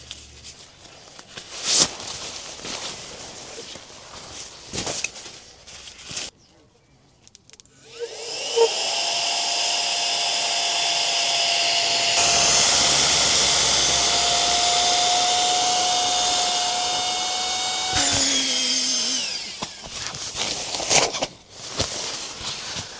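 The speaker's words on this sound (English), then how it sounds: "This is the Flextail pump." A Flextail electric pump inflates a sleeping mattress at a solo motorcycle campsite, starting with a sudden steady whine and airy roar that runs for about ten seconds and then cuts off, with handling noises before and after.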